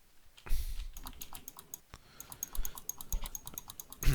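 Close, fast keystrokes on a computer keyboard come in bursts of clicks with short pauses between them, and a few louder thumps stand out.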